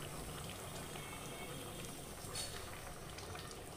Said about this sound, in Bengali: তো আঁচটা এবার মিডিয়ামে দিলাম, যাতে নিচে থেকে লেগে না যায় এবং চালটা ভালো করে ফুটে যায়